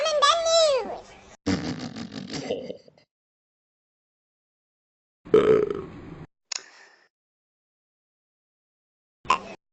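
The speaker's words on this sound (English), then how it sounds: "I'm burping!" Several loud, voiced burps in cartoon talking-animal style, with a long first one, a second right after, then shorter bursts separated by silence.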